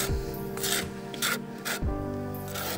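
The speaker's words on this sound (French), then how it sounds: "on met la colle sur le support" A notched trowel with large teeth rasps across a surface spreading tile adhesive, in repeated scraping strokes with short pauses between them, close and clear with no talking.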